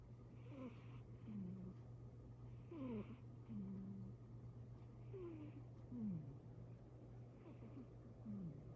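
A cat purrs softly and steadily, with a low rumble under faint, drawn-out vocal sounds that come in irregular bursts. It stays quiet and close, with no one speaking.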